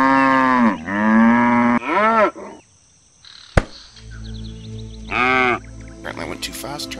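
Several loud, drawn-out cow moos from the god game Black and White, with a quieter stretch between them where a voice talks, and brief chirpy sounds near the end.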